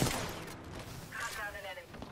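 Bursts of gunfire ring out in the battle royale shooter Apex Legends, a loud crackle of shots at the start and again later, with a voice talking over them.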